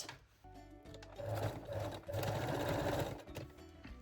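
Sewing machine stitching down the seam allowance on cotton jersey panties with lace edges, a brief steady motor whir in short bursts, close and fairly quiet.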